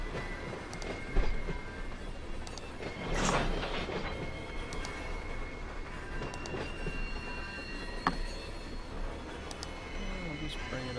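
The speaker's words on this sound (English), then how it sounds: "Two trailer van trains now." A freight train rolling in the Run8 train simulator, with continuous rumbling wheel and rail noise, occasional clanks and squeals, and someone talking over the steady running.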